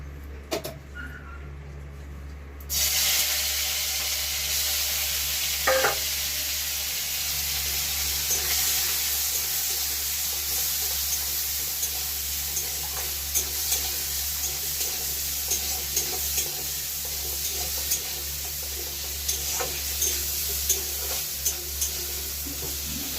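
Halved large prawns sprinkled with salt fry in a pan, giving a steady close sizzle that starts abruptly and carries on with scattered small pops and stirring clicks.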